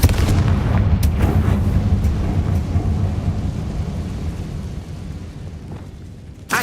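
A Confringo fire-blast spell erupts in Hogwarts Legacy, a heavy booming explosion that rolls into a long rumbling decay, with a few sharp cracks early on and a fresh hit at the very end.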